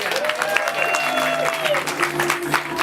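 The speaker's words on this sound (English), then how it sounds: "All right, clap for her, everybody." An audience claps for a volunteer named Leah at a live comedy show, a brief burst of crowd applause heard alongside a speaking voice.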